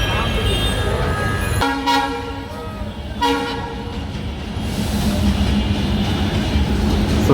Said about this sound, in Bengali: ইতিমধ্যে ট্রেন চলে আসলো।